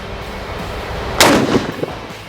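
A single loud, close shotgun blast from a Beretta T1 pump-action shotgun with an 18.5-inch barrel, fired at a 10-meter range, a sharp crack with a short rumbling decay, with no voices.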